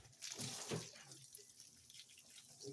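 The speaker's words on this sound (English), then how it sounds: "We'll use the hose here. This is cold water." Cold water from a hose runs and splashes while rinsing a raw grey fox pelt, a soft steady wash of broadband noise with a brief louder surge early on.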